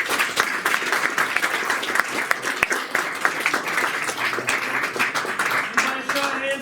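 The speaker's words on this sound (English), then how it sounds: "I want to give a great big round of applause." Sustained applause from an audience at a question-and-answer event, dense rapid clapping filling the room at steady loudness throughout, with some voices underneath.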